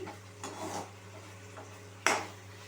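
Kashmiri red chili powder being mixed into sauce in a pan, soft scraping stirs followed by one sharp clink of a utensil against the pan, close and quiet.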